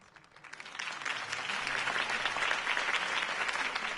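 Steady video game crowd applause swells in after a quiet start and continues evenly, dense clapping heard at a moderate distance.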